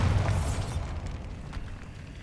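A Bombarda spell explosion in a wizard video game: a loud, deep boom at the start that rolls into a long rumbling decay lasting about two seconds, heard alone.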